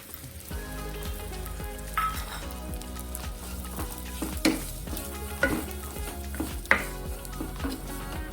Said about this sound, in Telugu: దీంట్లో పచ్చి కొబ్బరి వేసుకొని కాస్త వేపుకోవాలి